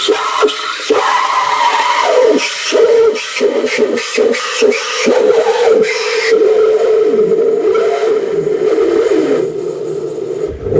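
An instant coffee machine's steam wand foams milk, a steady loud hiss and gurgling roar that holds for several seconds, then thins and quiets toward the end.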